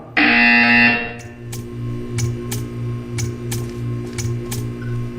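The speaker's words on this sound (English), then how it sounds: "You will hear a buzzer." In the Portal game, a loud electronic buzzer blares for about a second, then a steady string of sharp ticks follows over a low humming drone.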